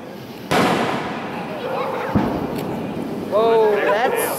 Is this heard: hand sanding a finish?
no